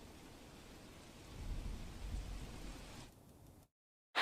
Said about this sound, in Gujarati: પાટણ શહેરમાં વહેલી સવારથી જ અનરાધાર વરસાદ વરસવા પામ્યો છે